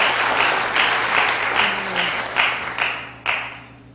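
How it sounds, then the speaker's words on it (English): Audience applause at a spelling bee rises as a dense patter of many hands clapping, then thins into scattered claps and fades within a few seconds. "Applause, applause."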